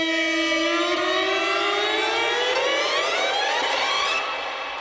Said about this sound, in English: Then I have a string riser at the end, which is a audio file, another splice file.